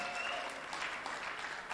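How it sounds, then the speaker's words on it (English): Audience applause for the panelists at a conference session, a steady wash of clapping from a crowd with a faint cheer, continuous and moderately loud throughout. "Can we give the panelists a round of applause?"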